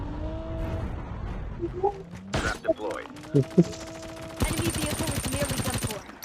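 Rapid bursts of machine gun fire in Call of Duty Mobile ring out among explosions and vehicle engine noise, loud and close, with players talking over the action.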